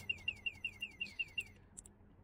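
An electric scooter's anti-theft alarm chirps in a rapid series of about eight descending electronic tones, then stops, followed by a couple of faint high beeps.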